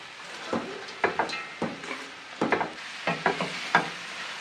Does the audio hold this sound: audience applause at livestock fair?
no